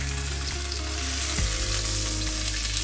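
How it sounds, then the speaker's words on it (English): Mackerel fillet frying skin-side down in a hot pan, giving a steady, dense sizzle and crackle that runs close and loud throughout with no voices. "my fish has been cooking up for a little bit in the pan now"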